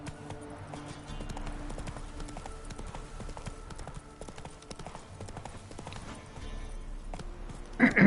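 Horse hooves clip-clop steadily at a walking pace in The Witcher 3 on PS5, an even rhythmic clatter with game music and ambience underneath and a brief louder burst near the end.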